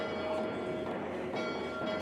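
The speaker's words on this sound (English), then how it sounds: "the altar was met with the familiar sound of the chapel church bells" Chapel church bells ringing at a church, a steady sustained metallic tone with faint lingering hum over a soft background wash, moderately distant and even throughout.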